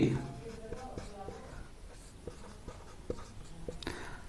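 Chalk or marker writing on a board during a physics lesson on the Wheatstone bridge, a string of short scratchy taps and strokes with a teacher's voice talking over them.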